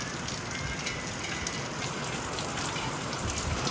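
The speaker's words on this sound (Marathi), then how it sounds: "तिकडं लय पाऊस चालू आहे का बेकारवानी" Heavy monsoon rain pours in a steady, dense hiss that stays even and unbroken from start to end, with no voices over it.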